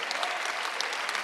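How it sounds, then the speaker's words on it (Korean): A congregation claps together during a Sunday church service, a dense burst of applause heard briefly and fairly close, with no voices over it. "박수 한번."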